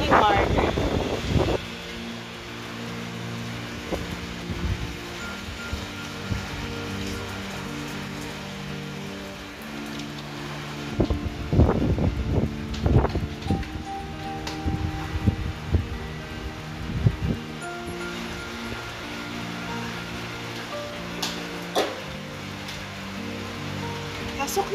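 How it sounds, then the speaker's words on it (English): Heavy rain and gusting wind during a typhoon in the Philippines, a steady wash of rainfall with occasional louder bursts of wind and splashing. "it's raining hard."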